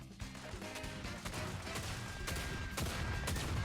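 Rapid gunfire rattles through a battle royale video game fight, dense and continuous with sharp cracks and impacts over a rumbling background, moderately quiet overall.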